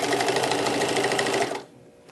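A sewing machine stitches rows of a thick, many-layered rag quilt, a steady fast mechanical whirring run up close that stops after about a second and a half.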